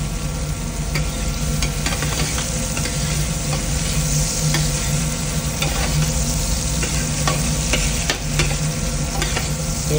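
Chili and garlic stir-fried for an octopus dish with black beans, a steady loud sizzle with repeated scraping stirs running throughout, close and continuous with no voices.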